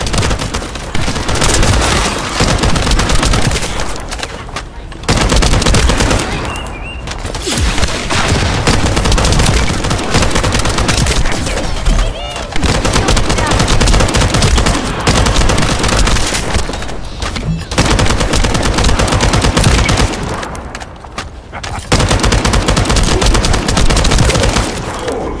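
Machine gunfire in the shooter game The First Descendant, loud dense bursts of automatic fire with heavy booms, running in long stretches broken by brief pauses.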